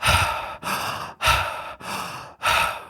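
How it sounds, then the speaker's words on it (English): Deep breaths drawn in and pushed out through the mouth during an active breathwork session, five loud, close, rhythmic breaths with brief pauses between them, no talking. "we're going to breathe in and out through the mouth and take these deep breaths"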